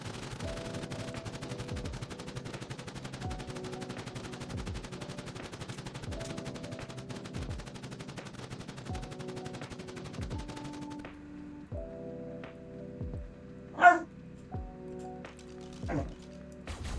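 Automated turrets in ARK fire in fast, evenly spaced bursts during a cave raid, a rapid mechanical rattle of gunfire running throughout at moderate loudness, with a couple of louder impacts near the end.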